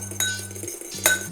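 Egg yolk with a drop of milk is stirred in a bowl: two bright clinks of a utensil against glass over a low steady hum.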